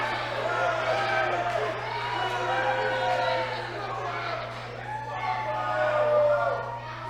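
A wrestling crowd at a Super Shogun Wrestling show murmurs and chatters with displeasure after a wrestler pulls the referee out of the ring, a steady, moderately loud rumble of voices over a constant low electrical hum.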